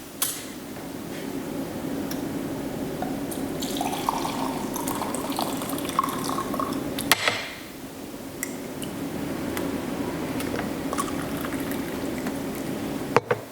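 Water is poured for tea from a cup with spring contacts in its base, a steady close trickle and splash that runs almost the whole time with a short break midway.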